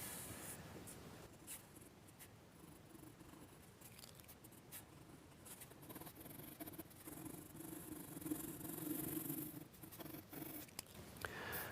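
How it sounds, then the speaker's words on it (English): HB pencil sketching a roof line on paper, a soft, steady scratching and scraping of graphite at close range, quiet and continuous with small changes in pressure. "Back to the HB just so we can put in this roof line."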